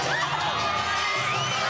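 A crowd cheering and whooping for people climbing a 30-foot greased pole in Philadelphia, a dense mass of voices with rising shouts, fairly close and continuous.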